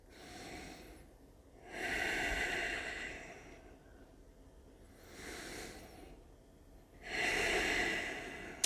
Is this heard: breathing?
yes